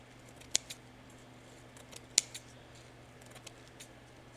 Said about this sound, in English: I'm going to trim close to where the Mod Podge is not